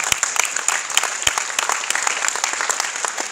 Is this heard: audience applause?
yes